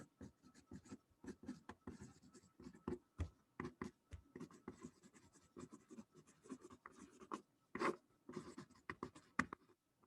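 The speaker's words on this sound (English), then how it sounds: "Let me write this." Marker or chalk writing on a board during a math lesson on dividing polynomials, heard as a steady run of short scratchy strokes and taps, close and moderately quiet, with no talking.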